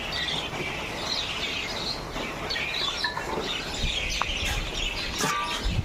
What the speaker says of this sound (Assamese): পূৰা চৰাই আহিছে, চোৱা।